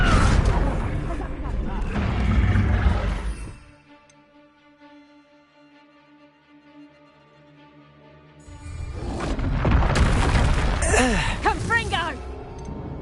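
The Confringo blasting spell in Hogwarts Legacy goes off in loud, rumbling explosive bursts with whooshing swells, two dense clusters separated by a few quiet seconds of low ambient game music.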